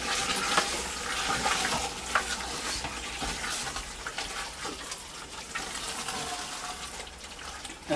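A spoon stirs lamb curry with yogurt in a pot, soft scraping and wet sloshing over a low sizzle, quiet and continuous with small clinks.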